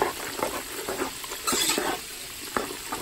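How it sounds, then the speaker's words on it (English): Spatula stirring soup in a pot, soft scraping and sloshing strokes at an irregular pace, fairly quiet and close, with no talking. "Okay, I'm gonna stir everything up"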